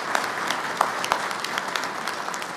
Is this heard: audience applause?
yes